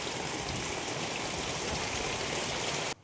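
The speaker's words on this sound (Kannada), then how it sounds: "ನೋಡಿ ಎಷ್ಟು ಜೋರು ಮಳೆ ಬರ್ತಾ ಇದೆ ಇಲ್ಲ" A downpour of heavy rain at a farmhouse garden in Kundagal roars as a steady, dense wash of water close by, then cuts off abruptly near the end; no talking.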